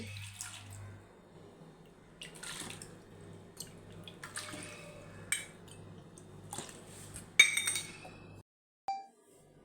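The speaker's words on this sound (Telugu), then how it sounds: "వాష్ చేసుకున్న బార్లీలోకి నాలుగు కప్పుల నీళ్లు పోసి" Water poured into washed barley in a bowl, a close splashing pour with clinks of the vessel, ending in a short clatter and brief silence.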